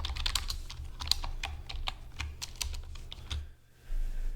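Quick bursts of keystrokes on a computer keyboard while coding JavaScript, rapid close clicks in an irregular rhythm that pause briefly near the end.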